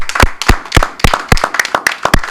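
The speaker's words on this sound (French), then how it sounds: "Félicitations, applaudissez pour lui." A small audience on a talk show about a choral singer claps in sharp, distinct, close-up hand claps at an uneven rhythm, with no voices.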